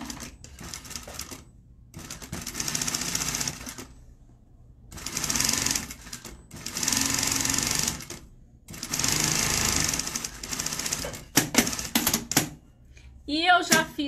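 A sewing machine stitches a fabric seam for a crossbody bag in several rapid, close runs of a few seconds each, separated by pauses, with a voice heard in between.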